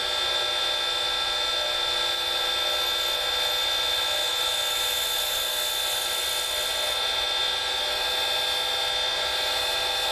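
A driftwood pen blank spins on a lathe while a skew chisel cuts it, giving a steady high whine with constant tonal hum, loud and unbroken throughout.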